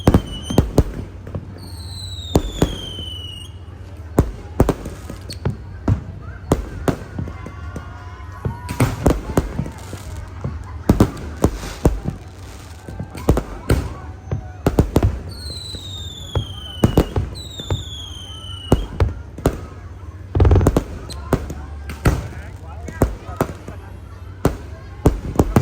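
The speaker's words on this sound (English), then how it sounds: "So that was the fireworks show to bring in 2024." New Year's Eve fireworks show welcoming 2024 in Koh Samui, Thailand: sharp bangs and crackling bursts pop irregularly throughout, some whistling rockets rising, with distant crowd voices murmuring underneath.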